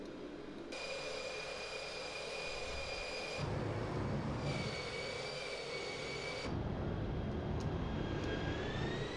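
A Vickers VC10 airliner's jet engines drone inside the Prepar3D flight simulator during fast cruise. The steady roar carries whining tones that shift slightly, with no talk.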